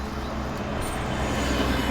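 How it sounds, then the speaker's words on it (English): A broad, steady roar of passing road traffic fills the background, with vehicles swelling slightly louder toward the end. "Sorry about the traffic."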